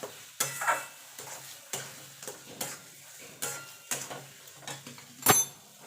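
Bean (sim) bhorta mixture stirred and scraped around a pan with a spatula: a steady run of rhythmic scraping strokes, close and fairly quiet, with a faint sizzle underneath and no talking.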